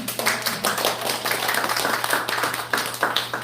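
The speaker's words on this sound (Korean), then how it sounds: "이 대목에서 박수 한 번" Clapping from a church congregation during a testimony service, a steady mass of hand claps lasting a few seconds, moderately loud over a faint low hum.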